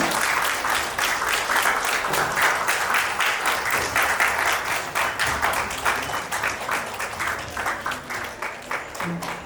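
Applause and clapping from guests at a wedding ceremony, loud and sustained, with dense overlapping claps that continue steadily and thin out slightly near the end.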